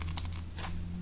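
Slime mixed with Snow Wonder artificial snow is squeezed in the hands, making a quick series of close, crisp crunches and crinkly squishes.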